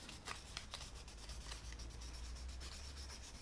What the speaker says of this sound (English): You take some very fine sandpaper. This is 1200.